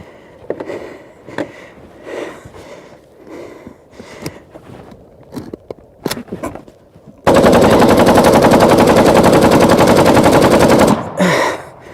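Kalashnikov rifle firing on full automatic during an endurance test: scattered single shots and short bursts, then a long, loud continuous burst of several seconds before it cuts off.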